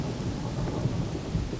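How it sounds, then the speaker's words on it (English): Thunder rumbles deep and continuous during a sudden early-morning lightning storm over a fishing skiff, heavy and fairly close, with rain hiss mixed in and no voices. "hearing a little bit of thunder"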